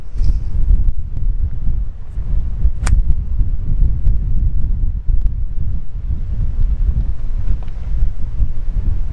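Strong wind on a golf course on Prince Edward Island buffets the microphone in loud, continuous low gusts, rising and falling throughout with no voices.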